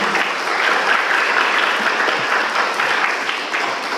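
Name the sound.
applause from the church congregation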